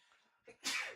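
A single sharp sneeze: a short breathy intake followed by a loud, explosive burst, close to the mic.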